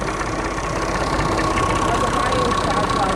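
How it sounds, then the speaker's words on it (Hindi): A Massey tractor engine runs steadily while driving a shaft, a close, continuous rough drone with an even mechanical rumble that holds constant from start to end. "ये दोस्तों मैसी ट्रैक्टर है और ये शाफट है, शाफट की वजह से ये चलता है जी।"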